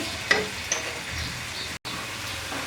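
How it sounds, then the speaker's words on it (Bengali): Onion fries lightly in oil with whole spices in a pan, a close, even sizzle with a couple of faint ticks and a brief stir. "পেঁয়াজটা হালকা ভাজা হয়ে গেছে"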